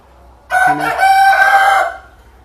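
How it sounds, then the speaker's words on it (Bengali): A tiger-breed rooster on a poultry farm in Mirpur, Dhaka, crows once, loud and close, a single drawn-out call lasting about a second and a half against a quiet background. "আপনারা দেখতে পাচ্ছেন টাইগার মুরগি।"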